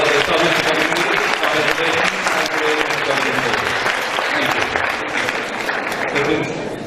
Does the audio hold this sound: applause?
yes